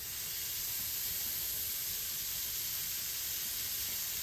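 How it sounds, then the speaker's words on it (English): Bacon sizzling in a hot pot, a steady, even crackling hiss that runs unbroken and close throughout, with no talking. "so our pot is hot. Got our bacon in there"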